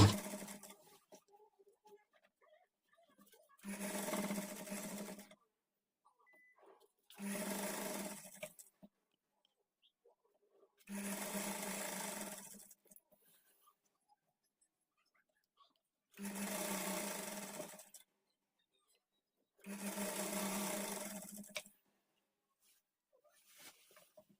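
A sewing machine stitches a double-folded seam through lehenga lining and main fabric, running in five separate bursts of steady whirring a few seconds each, with near silence between runs.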